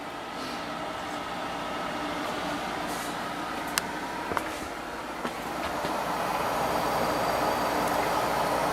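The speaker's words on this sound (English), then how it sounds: "The compressor's running again, and I'm starting to get lukewarm air out the top of this." Waykar 25-pint dehumidifier with a reciprocating compressor running steadily, a constant broadband hum and airflow with a few faint clicks, close and even.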